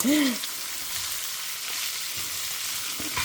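Carrots and knol-khol sizzle and fry steadily in a hot pan while being sautéed for a Tamil kuzhambu, a dense continuous hiss with a brief stir near the start, no talking.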